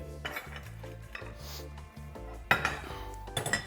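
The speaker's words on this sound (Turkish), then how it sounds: "Tavalarımı ocağa alıyorum sevgili dostlar." Metal pans clank and clatter as they are set onto a stovetop in a kitchen, with a few sharp clinks near the end over steady low background hum.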